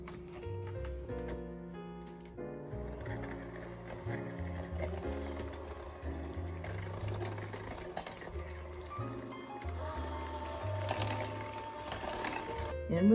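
Electric mixer whirring through pumpkin dessert batter with eggs, a steady mechanical hum with ticking, fairly faint and alone.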